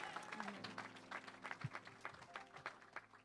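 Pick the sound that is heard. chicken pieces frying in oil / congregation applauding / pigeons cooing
congregation applauding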